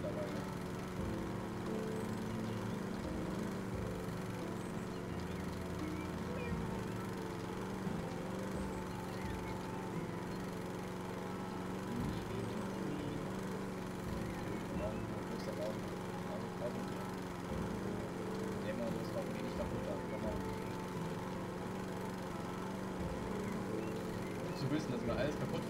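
Lawn mower running steadily in the home renovation game House Flipper, its low droning engine hum sustained at moderate level while a person talks over it.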